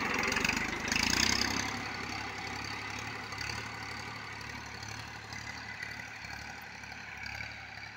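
A Massey Ferguson 1035 DI tractor, a 36 HP diesel, idles steadily with a continuous mid-pitched engine rumble, fairly close and even in level with no talk.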